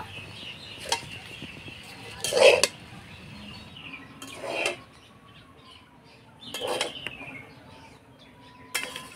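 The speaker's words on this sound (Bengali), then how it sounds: "ঘি দিয়ে ভালো করে নাড়াচাড়া করে নিব" A spatula stirs ghee into fried rice in a home-cooking pan, making four brief, light scraping clinks spaced a couple of seconds apart over a quiet background.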